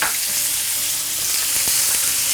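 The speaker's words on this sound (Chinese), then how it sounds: "再把黄油浇到牛排上面。" Steak sizzles steadily in a hot pan with butter, rosemary, garlic, cherry tomatoes and asparagus, the heat switched off, with a dense continuous crackle and a few soft clinks of utensils near the pan.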